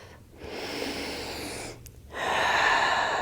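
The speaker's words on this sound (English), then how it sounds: "Take a deep breath." A deep breath drawn in while resting in child's pose during a yoga flow, a soft airy inhale that swells, breaks off briefly, then returns stronger and fuller, close and alone with no talking.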